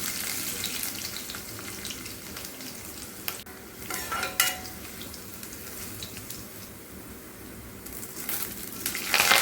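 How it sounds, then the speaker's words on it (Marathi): Mustard seeds, cumin, garlic and curry leaves sizzle and crackle steadily in hot oil, a continuous bright frying hiss with occasional stirring clatter, close by and without talk. "मी तेलामध्ये मोहरी, जिरं, लसूण, कढीपत्त्याची फोडणी करूया"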